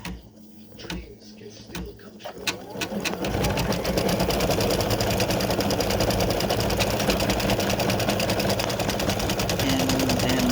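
An embroidery sewing machine stitches the final step of a gift tag, starting with a few scattered clicks and then settling into a steady, rapid, loud mechanical chatter that runs to the end.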